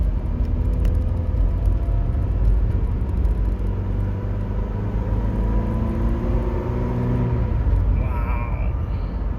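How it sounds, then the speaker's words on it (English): A pickup truck on its first drive after a third member (rear differential) replacement, with a steady low engine and road rumble holding close and even throughout, and no talk over it. "Driving the truck for the first time after I replaced the third member."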